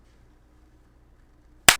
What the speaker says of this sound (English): Oh, the clap? So yeah, make sure your clap is on camera.